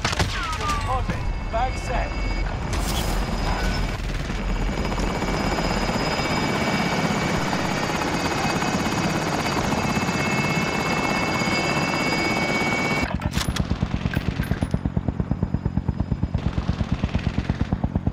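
Helicopter in Call of Duty: Modern Warfare lifting off and departing, a loud steady rotor thump and turbine whine over bursts of distant gunfire, with game voices talking above it.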